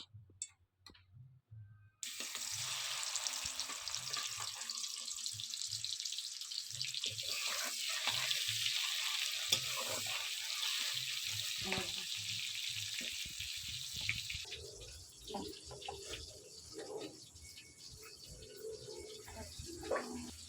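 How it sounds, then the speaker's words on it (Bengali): Tengra fish sizzle and spit as they hit hot mustard oil in a kadai, a loud steady frying hiss that begins abruptly and continues throughout, with faint clinks of utensils. "কড়া আমাদের গরম হয়ে গেছে দিয়ে দেব সর্ষের তেল দিয়ে দেব মাছ"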